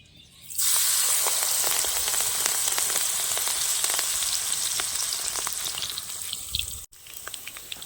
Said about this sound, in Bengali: এখন ধনে পাতার চপগুলো ভেজে নেব